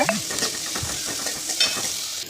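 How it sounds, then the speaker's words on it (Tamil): Finely chopped onion and garlic sizzle and crackle in hot oil while being stirred for dry fish gravy, a continuous close frying hiss with scraping of a utensil. "பொடி பொடியாக நறுக்கி வச்சுருக்கக்கூடிய வெங்காயத்தையும் பூண்டையும் போட்டு நல்லா வதக்கிக்கலாங்க"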